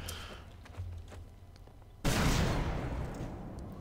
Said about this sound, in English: There's just all these explosions above me